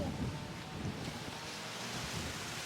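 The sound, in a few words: wind on the beach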